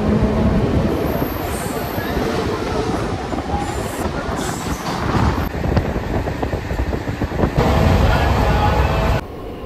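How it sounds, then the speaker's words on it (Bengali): Local train pulling into Balasore railway station on the Howrah to Puri line, with a steady loud rumble of wheels and carriages, rhythmic clatter and a brief squeal near the end. "আমাদের ট্রেন এসে পৌঁছালো বালেশ্বর রেলওয়ে স্টেশনে"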